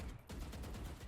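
A short burst of rapid gunfire in the video game Valorant rattles loudly and continuously for about a second.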